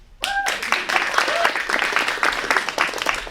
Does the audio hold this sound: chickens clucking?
no